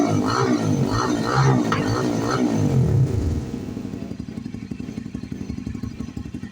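Zxmco Cruise 200cc sports motorcycle engine revving in bursts, rising and falling whines for about three seconds, then settling into a quieter, steady, pulsing idle throb, close by with no talk.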